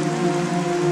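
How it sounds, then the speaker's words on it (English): Heavy rain pours steadily in a brief, continuous wash, with a sustained low tonal hum layered over the downpour. "It was heavily raining."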